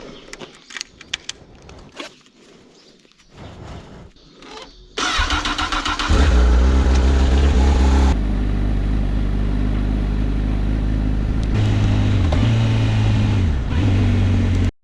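Honda CB1000 Hornet SP motorcycle starting up after some handling clicks and keys, then its engine catching into a loud steady idle with a couple of brief throttle blips, close and dominant with no talk.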